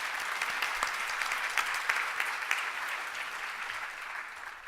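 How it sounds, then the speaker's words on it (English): Applause from a conference audience at a mental health summit opening, steady and moderately distant with scattered individual claps standing out, no voices over it. "So if we can give them a round of applause."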